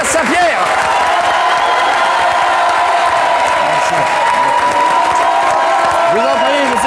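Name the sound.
studio audience applauding Omar Sharif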